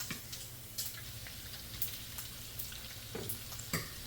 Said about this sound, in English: Don't you love the sizzle you hear when you put your bacon into the pan?